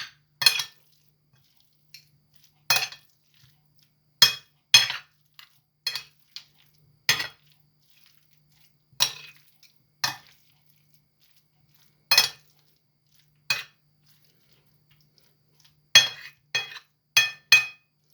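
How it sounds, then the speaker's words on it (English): Utensils clink sharply against a bowl while stuffed sweet pepper filling is mixed, giving a dozen or so irregular, close, bright taps with short pauses between them and no talking. "Mix it all in."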